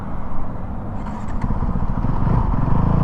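A 2020 Honda CRF450L street-legal dirt bike running while ridden, its engine a loud, continuous low rumble with steady throttle and wind noise throughout, no talking.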